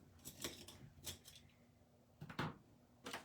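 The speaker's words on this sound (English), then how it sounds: "Going to hand cut the image out" Hand scissors cutting out a stamped paper greeting image for a card, a handful of quiet crisp snips spaced irregularly, close and soft, with no talk.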